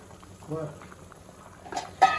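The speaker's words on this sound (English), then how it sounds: "So now it came for a boiling." Fish curry with water and green chilies boils softly in a pot on high flame, with scattered bubbling pops and a couple of sharper bursts near the end.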